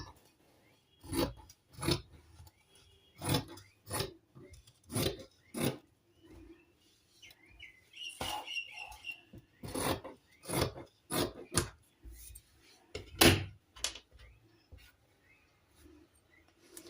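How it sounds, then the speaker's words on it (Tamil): Scissors cutting fabric for tailoring, close up: a series of distinct raspy snips in uneven rhythm, each a short crisp burst, with quiet gaps between and no voices. "இப்படியே பாருங்க நம்ம வந்து கட் பண்ணி எடுத்துக்கலாம்"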